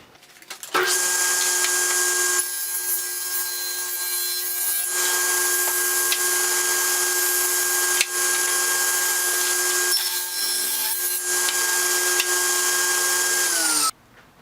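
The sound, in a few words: cutting a board of wood stock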